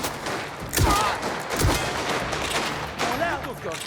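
Dense gunfire from the video game Mafia: The Old Country fills the clip in rapid overlapping bursts, loud and continuous, with shouted voices mixed into the battle noise.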